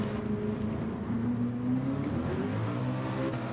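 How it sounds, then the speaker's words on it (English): A Le Mans race car engine builds revs down a long straight at Sardegna in a racing video game, a loud steady whirring drone rising in pitch with a climbing high whine. "Le Mans engine down this back straight here at Sardegna. You feel the engine build up."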